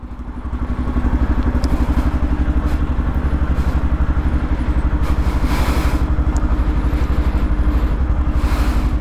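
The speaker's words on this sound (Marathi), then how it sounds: "सो बाईक रेडी आहे, कोल्ड स्टार्ट करत ठेवलं आहे" A motorcycle idles after a cold start with a steady, rapid, throbbing beat. The engine is close and loud, holds an even rhythm throughout, and no one speaks.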